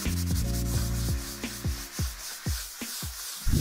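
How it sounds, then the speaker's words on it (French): A power sander works a wall surface near the ceiling, giving a humming motor tone with close, scraping friction that breaks into short rubbing strokes and winds down. "avec une ponceuse, ça creuse."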